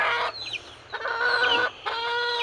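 Backyard chickens cluck in bursts while a rooster crows, loud and close, several overlapping calls across the short stretch with brief pauses between them.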